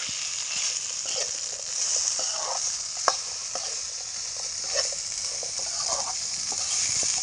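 Potatoes and sesame seeds fry in a pan with a steady bright sizzle, punctuated by occasional soft clicks and scrapes of stirring, close and fairly quiet.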